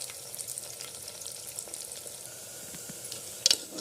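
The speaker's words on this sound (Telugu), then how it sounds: "ఈ ఆనియన్ని మనము ఫుల్ గోల్డెన్ బ్రౌన్ వచ్చేంత వరకు బాగా ఫ్రై అయితే చేసుకోవాలి." Sliced onions frying in a pan toward golden brown for haleem, a steady close sizzle and crackle with faint stirring scrapes and a brief sharper pop near the end, no voices.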